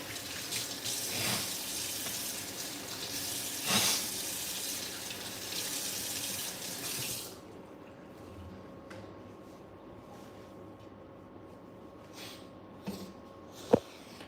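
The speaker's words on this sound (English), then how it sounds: "I'm just going to wash my hands." Water gushes steadily from a tap while someone washes their hands, a close hissing rush that stops abruptly midway, leaving quiet room tone with a few small clinks and a sniff.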